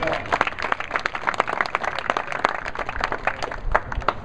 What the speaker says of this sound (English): Pick another round of applause.